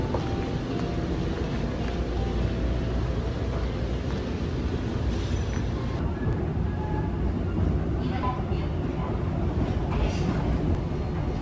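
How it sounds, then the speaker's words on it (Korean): A subway train at a station, a continuous loud rumble and hum of the carriages with a brief higher whine partway through, and people talking in the background. "저는 지하철 도착했습니다."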